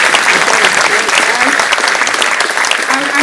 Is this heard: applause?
yes